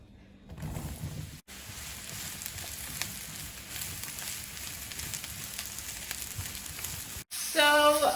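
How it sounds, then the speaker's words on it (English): Mushrooms sauté in a frying pan of olive and vegetable oil over maximum heat, giving a steady, close, hissing sizzle with two brief breaks and a louder, brighter burst near the end. "We're going to saute the mushrooms now."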